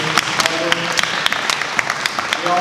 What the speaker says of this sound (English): Just a round of applause for you guys.